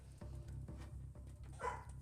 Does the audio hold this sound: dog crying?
yes